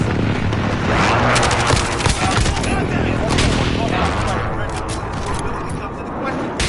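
Precision airstrike explosions and gunfire in Call of Duty, a dense, continuous barrage of booms and rapid shots that stays loud throughout, with a voice talking underneath the noise.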